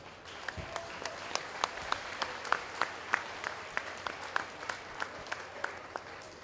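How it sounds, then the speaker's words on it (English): Scattered audience applause at a 4-H and FFA market goat show: a thin, steady patter of individual claps from a modest crowd, fairly distant and moderately quiet, with no talk over it. "All these people out here right now, they all deserve a round of applause."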